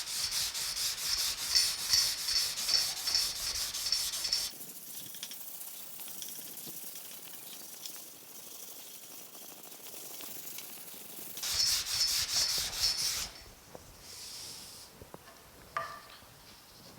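Hand sanding of body filler on the splash guard of a 1950 Chevy truck, heard as two bursts of steady rasping rub strokes separated by a quieter pause, close and fairly loud.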